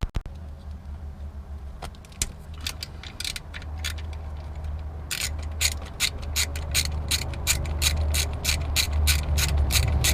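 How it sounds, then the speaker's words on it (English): A ratchet wrench loosens a 10mm bolt on the camshaft sensor of a Nissan 350Z, first with scattered clicks, then with a steady run of close, sharp ratcheting clicks. "there is a 10mm bolt on there that I'm just gonna slip the wrench onto and loosen it off."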